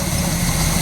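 A 1969 Pontiac Firebird 400 HO with a 4-barrel carburetor, long branch exhaust manifolds and a heavy duty cam runs at a steady, loud, close idle while coolant burns out of the exhaust.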